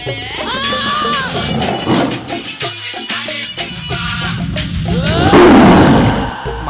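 A tiger in a Telugu comedy film scene gives loud, rasping roars and growls that swell and fade in repeated bursts, close and dominant over a busy soundtrack.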